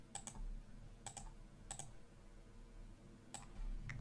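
Keys on a computer keyboard are pressed while working in Excel, producing a few quiet clustered double clicks spaced about a second apart over low background hum.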